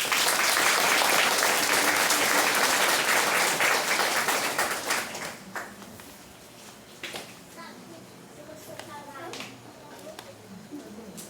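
A church congregation gives a round of applause, loud dense clapping at first that fades after about five seconds into scattered claps, murmurs and children's voices.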